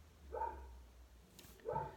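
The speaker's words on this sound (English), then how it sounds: "my dog is going nuts. I don't know if my viewers can hear him right now." A dog barks indoors, two distinct barks about a second and a half apart, moderately loud and close, with a low background hum and a brief rustle between them.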